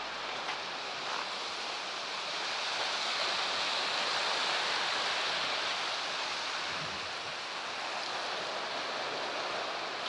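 Waves wash and break continuously on a shore in Iran, a broad steady roar of surf with no voices.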